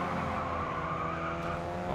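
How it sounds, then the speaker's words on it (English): A sustained engine roar from a car boosting on nitrous in the Racing Master racing game, a steady loud drone with layered engine harmonics holding throughout without a break. "Hitting the nitrous"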